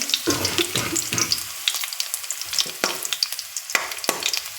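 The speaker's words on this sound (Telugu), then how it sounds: "బాండి పెట్టి వాటిలో ఆయిల్ వేసి ఉల్లిపాయ ముక్కలు వేస్తున్నాను వేసి ఎర్రగా వేయించుతున్నాను" Onion pieces frying in oil in a pan with tempering spices, a close crackling sizzle broken by repeated scraping stirs of a spoon against the pan, loud and continuous with no talking.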